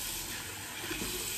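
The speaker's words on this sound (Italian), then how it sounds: "aggiungiamo l'acqua." Water running from a tap and added during a wet shave, a steady close rushing hiss that lasts about a second and a half with no talking.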